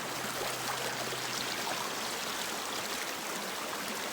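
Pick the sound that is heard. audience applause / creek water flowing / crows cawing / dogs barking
creek water flowing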